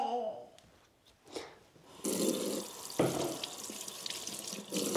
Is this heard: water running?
yes